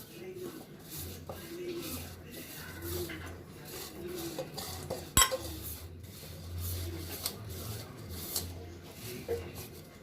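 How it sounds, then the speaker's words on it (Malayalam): Ingredients seasoned with salt are stirred together in a cooking vessel, giving soft, irregular scraping and rubbing with a few light clinks and one sharp knock midway, over a steady low hum. "ഇതെല്ലാം കൂടി കഴിഞ്ഞിട്ട് നമുക്കത് ശരിക്കും കൂട്ടി യോജിപ്പിക്കാം"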